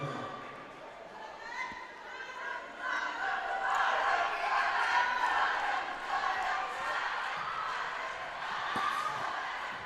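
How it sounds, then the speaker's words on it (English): At a pencak silat championship match between Malaysia and India, the Indian team shouts and cheers for its athletes from the sidelines, a sustained crowd roar of voices that swells midway, heard under a commentator talking. "You can hear in the background there the Indian team cheering on their athletes"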